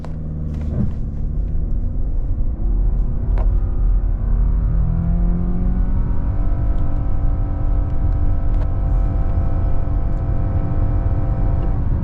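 A 2026 Subaru Outback Limited launching from a brake-rev with traction control off, engine rumble rising through several climbing gear sweeps, close and loud with no talk.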